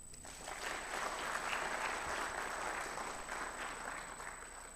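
A lecture hall audience at a memorial lecture breaks into sustained applause, dense overlapping clapping that swells in and holds steady at a moderate level throughout, with a faint constant high tone underneath.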